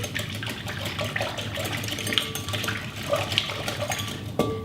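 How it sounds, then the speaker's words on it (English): Melted butter or coconut oil mixture whisked in a bowl for pink marbled cupcake batter, a steady close scraping and clinking of whisk against the bowl with small splashy accents, continuous and fairly even throughout. "I just whisk all this together just to combine."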